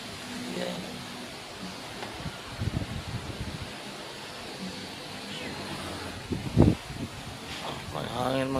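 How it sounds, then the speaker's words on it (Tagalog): Strong wind roars steadily across the microphone, with a few rustles and thumps rising and falling against the constant rush of air. "Grabing lakas ng hangin"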